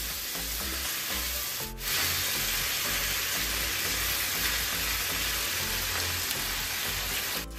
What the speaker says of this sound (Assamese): মাংসখিনি ভাজি থকা মই মিডিয়াম ফ্লেমত ভাজি আছোঁ